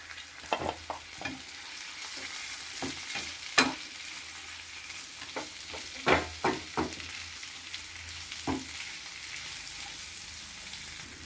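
Tomato, green chili and ginger sauté in a pan with a constant sizzle, punctuated by scattered spoon knocks and scrapes from stirring.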